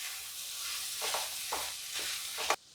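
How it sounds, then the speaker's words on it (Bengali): Spiced potato and cauliflower stirred in a frying pan for singara filling, a steady sizzle broken by four rhythmic scraping strokes of the spoon, close and clear. "এবার এই মশলাটা দিয়ে আলু আর ফুলকপিটাকে একটু মিশিয়ে দিচ্ছি।"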